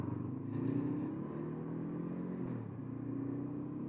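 A 2019 Honda CB500X motorcycle engine burbles with a steady, deep, close rumble that swells slightly and dips briefly near the end, with no one talking.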